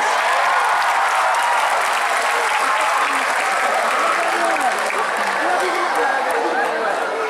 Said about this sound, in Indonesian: Beri tepuk tangan kepada kami